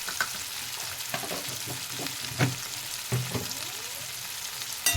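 Spices, onion, tomato and potato fry in a pan for radish-greens chochchori while being stirred, a steady sizzle broken by several scraping stir strokes and spatula knocks.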